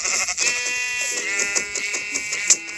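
Sheep in the Minecraft video game bleat in a quick run of short, nasal, buzzy calls, fairly loud and close, with no talk over them.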